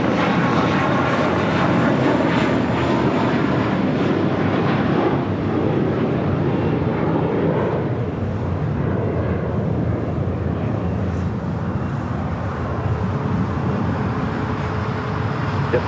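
United airliner taking off from runway 25 right at LAX, a loud sustained jet engine roar that slowly eases toward the end, with faint traffic noise beneath.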